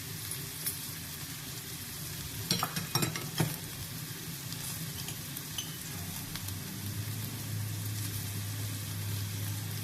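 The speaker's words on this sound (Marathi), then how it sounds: "आता यामध्ये दोन्ही परतून घेऊया।" Onion and ginger garlic paste sizzle steadily in a hot pan while a spoon stirs and scrapes, with a few sharper clinks of the utensil partway through; no talking.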